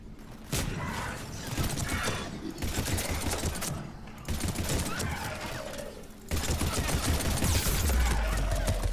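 Gunfire with ammo mod effects in Mass Effect 3, dense rapid bursts of clattering shots in several sustained volleys separated by short gaps, loud and continuous.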